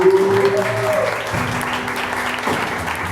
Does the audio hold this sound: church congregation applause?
yes